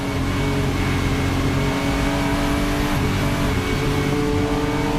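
A Porsche 935 race car engine roars at high revs on a racing circuit, loud and continuous with a dense, steady drone throughout and no talk.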